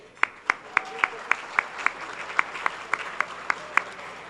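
At an annual chamber dinner, clapping comes in an even, steady rhythm of about fifteen crisp claps at a brisk pace, moderately close, over a low background murmur.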